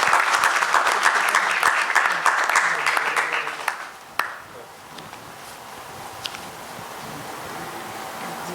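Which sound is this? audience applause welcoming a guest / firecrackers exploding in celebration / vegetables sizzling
audience applause welcoming a guest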